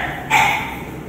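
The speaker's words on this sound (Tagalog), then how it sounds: "ito yung mga tuta" A puppy lets out a single short, bright yelp after a moment of steady background hiss, close and fairly loud, with no talking over it.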